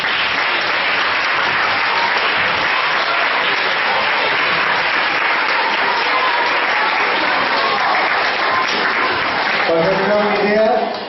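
A theatre audience gives sustained, loud applause for a technician after a school play of Mar i Cel, a dense continuous roar of clapping with a voice beginning to speak at the very end.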